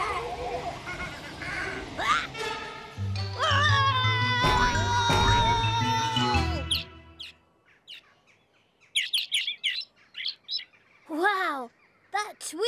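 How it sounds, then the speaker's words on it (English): Birds tweeting heard through a toy trumpet, bright chirps that come up loud and close at first over a steady low hum, then continue as sparse, separate chirps with quiet gaps between them. "that tweeting is really loud when you hear it through the trumpet"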